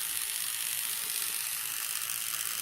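Plarail T-26 Rusty, a small orange narrow-gauge diesel toy train, runs with a grindy, wobbly wheel, giving a steady close ratcheting whir throughout with no pauses.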